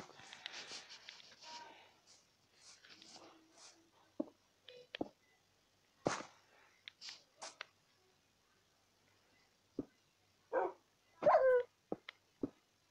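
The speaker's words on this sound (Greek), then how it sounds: "Όχι, όχι, όχι, δεν θέλω άλλους σκύλους εδώ μέσα." Dogs in the Minecraft video game bark and yip in short scattered bursts, several overlapping at times with quiet gaps between, fairly faint and heard without talk.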